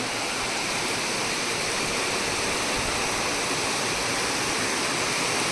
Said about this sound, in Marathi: किती मोठा पाऊस आलाय बघा